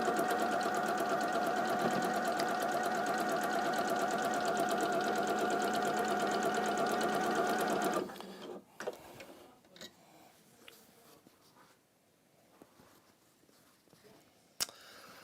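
A sewing machine runs steadily and loudly for about eight seconds, stitching a quilt block seam, then stops abruptly, leaving faint handling clicks and light fabric rustle.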